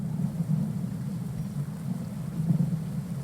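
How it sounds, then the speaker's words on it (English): Thunder and rain from the video game Darkest Dungeon: a continuous low storm rumble with a steady hiss of falling rain, swelling in a couple of rolls. "the one map you can hear the crackle of thunder"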